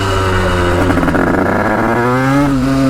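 An untuned 88cc engine running far too rich revs hard and close up, its buzzing note holding steady and then climbing toward the end of the short burst.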